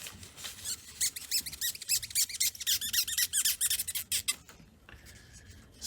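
A Kimwipe soaked in acetone rubs the capstan of a JVC Victor DD-7 turntable, making rapid, rhythmic squeaks that come close and clear, then trail off into quiet.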